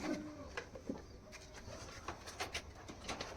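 A pair of pigeons kept as loft birds, Rampuri Teddy Golden and Giribaz stock, coo softly in short low murmurs, faint and close against a quiet background with scattered higher chirps.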